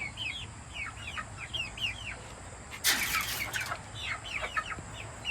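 A flock of backyard homestead chickens clucks and chirps in repeated short bursts while pecking at feed, with one brief louder rustle partway through.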